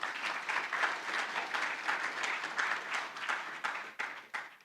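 Audience applause at a public meeting in the Cayman Islands, led by the Deputy Premier. Steady clapping from a modest crowd continues throughout, with individual claps standing out near the end.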